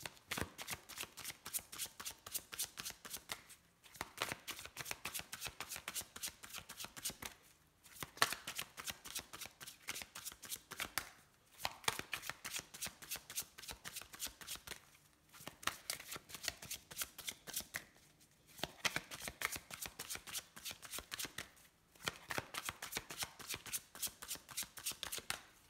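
A deck of oracle cards is shuffled repeatedly and cut, rapid riffling and slapping bursts in close, quiet succession with short pauses between rounds.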